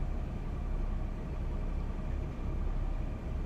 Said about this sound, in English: I do like the sound of this train